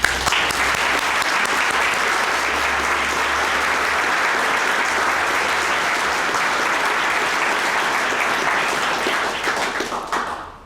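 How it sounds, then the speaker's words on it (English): Loud, sustained audience applause for key partners at a building's grand opening in Saint Paul, a dense wash of many hands clapping steadily before tapering off at the close. "I'd like to hope everybody can give an applause for all the key partners."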